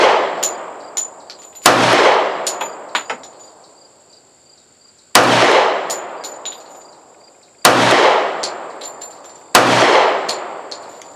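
A Kahr CT45 .45 pistol fires a handful of single shots, sharp loud cracks with ringing metallic echoes, spaced irregularly a few seconds apart with quiet gaps between.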